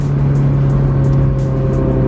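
A Honda S2000 engine revs hard and continuously, a loud close steady high-pitched drone held throughout with no talk.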